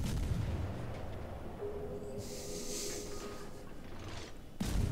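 Naval gunfire from a destroyer in World of Warships, heavy booming shots rolling under a continuous low engine and sea rumble, with a louder blast right at the end.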